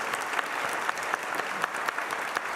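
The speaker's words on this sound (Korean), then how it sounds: "우리 이들을 박수로 한번 격려해 주시면 좋겠습니다" A Sunday worship congregation applauds middle and high school students standing in their seats, a steady wash of many hands clapping at moderate distance for a few seconds.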